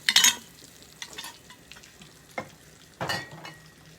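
Flour frying into a roux and being stirred in a pan, with scraping strokes and bursts of soft sizzling at irregular intervals, close by.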